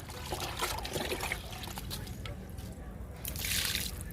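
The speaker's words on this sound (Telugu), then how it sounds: "ఇంకా చామంతుల వరకు చూపిస్తానండి లిక్విడ్ ఇవ్వడం." Liquid fertilizer trickling and splashing from a container onto potted garden plants, including chrysanthemums, a soft steady pour with a brief louder gush near the end and no talking.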